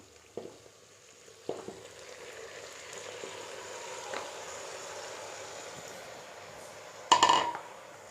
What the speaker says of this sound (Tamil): இப்போ கழுவி வச்சுருக்கிற 1 கிலோ சிக்கனை இதோடு நான் சேர்த்துக்கிறேன்